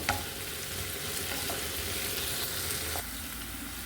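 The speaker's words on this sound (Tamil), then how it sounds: "வெங்காயம் கொஞ்சம் இன்னும் கொஞ்சம் லைட் ப்ரௌனாக வேகட்டும்" Onions browning in oil in a pan for a chicken gravy, giving a steady, close sizzle that runs throughout with a brief clatter near the end and no talk.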